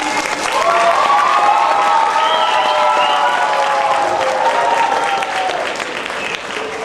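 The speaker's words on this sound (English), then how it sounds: "Let's give everyone a round of applause." A large crowd claps steadily and loudly, with scattered cheers and whoops carrying over the applause throughout.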